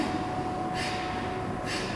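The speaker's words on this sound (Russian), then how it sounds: "Активно дышим." Active yoga breathing exercise: two brief, forceful breaths a second apart, each a soft airy rush heard over a low, steady background hum.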